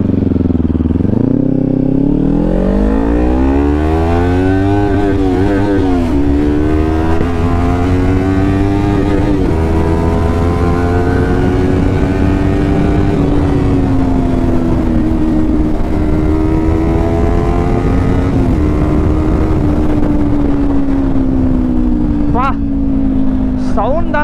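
A fully modified Kawasaki Ninja 400 motorcycle on a ride, its engine and aftermarket exhaust rising and falling through several loud revs and gear changes, close and continuous, with a rider's voice talking faintly beneath.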